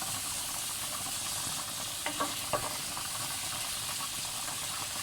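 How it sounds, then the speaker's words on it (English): Mince frying in a pot with ginger and garlic stirred in, a continuous even sizzle with a couple of brief spoon scrapes near the middle, close and steady, no voices. "drop in your ginger and garlic. Give it a nice stir in, let it mix."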